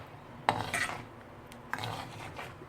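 A utensil stirring tamarind water into manathakkali kulambu in a pot, two short scraping clinks of metal against the vessel about a second apart, close and fairly quiet.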